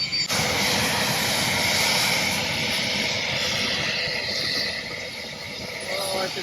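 A helicopter lifting off very close by, a loud continuous broadband roar of rotor wash and turbine with steady high whine, sustained throughout at near-constant level.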